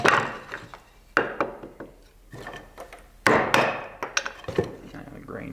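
Knife splitting a thin piece of walnut wood, with several sharp knocks and cracking strikes separated by short pauses, close and fairly loud.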